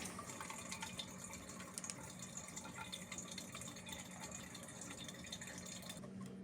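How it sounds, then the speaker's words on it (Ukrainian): Water pours steadily into a smoker's steam generator with a continuous, even splashing gurgle, quiet and close, with no talking. "я наливаю воду"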